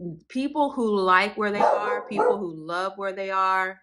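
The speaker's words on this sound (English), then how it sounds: "that's my dog" A dog barks and yips repeatedly in short, close bursts under a person speaking.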